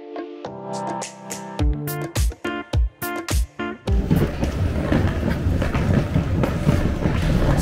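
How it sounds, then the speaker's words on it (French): Metro train in Naples running on rails, with a loud rhythmic series of clanks and rattles giving way to a steady, dense rolling roar close by. "là, on est dans les trains de métro"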